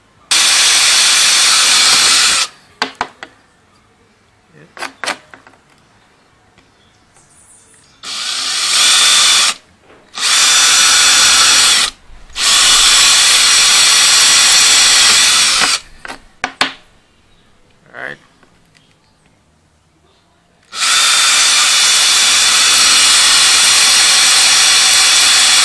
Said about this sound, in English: So you're going to bore it out and take it out piece by piece.